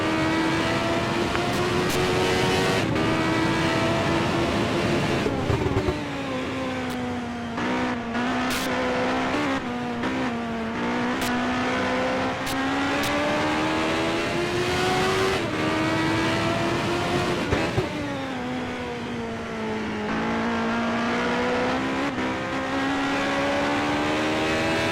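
Race cars at the 1988 CART Cleveland Grand Prix scream past at full throttle, engines rising and falling in pitch through gear changes and corners, loud and continuous with overlapping cars.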